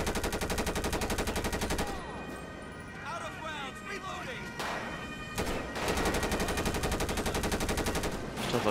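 Rapid automatic gunfire from a video game bank robbery shootout, with bursts at the start and end and a quieter middle stretch, while people talk throughout.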